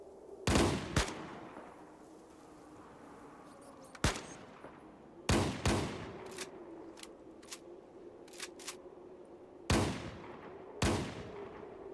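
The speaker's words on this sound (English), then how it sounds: "Oh yeah, we're just shooting through the wall now?" Separate bursts of gunfire in the tactical game Fallout Tactics, rounds fired through a wall, crack out in sharp, loud clusters spaced a few seconds apart over a low steady background hum.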